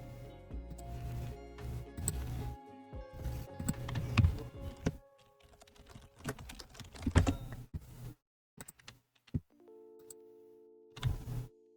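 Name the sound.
typing on a computer keyboard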